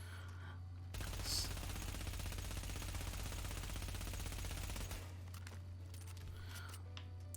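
Rapid automatic gunfire in The Division rattles in one continuous burst lasting several seconds, then cuts off and leaves quieter game sounds behind it.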